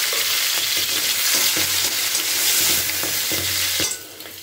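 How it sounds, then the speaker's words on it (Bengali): Cauliflower florets and peas are stirred while frying in oil in a pan, a close, steady sizzle broken by repeated scraping strokes that ease off near the end. "এগুলোকে আমি নাড়িয়ে নিচ্ছি।"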